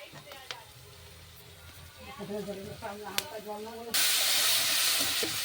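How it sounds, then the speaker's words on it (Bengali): Water splashed into hot oil in a pan sets off a sudden loud steamy hiss and sizzle that keeps going to the end, after a stretch of quieter cooking with a voice speaking over it. "জল নিয়ে দিয়ে একটু নেড়ে নিলাম।"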